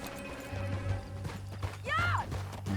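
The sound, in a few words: horse hooves in the video game Red Dead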